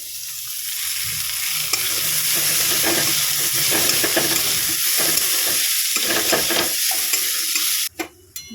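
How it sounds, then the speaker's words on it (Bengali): Luchi flatbreads deep frying in hot oil, a steady loud bubbling sizzle that runs continuously for several seconds before cutting off abruptly near the end, with no talking. "লুচি ভেজে নিচ্ছি ফুলকো ফুলকো লুচি"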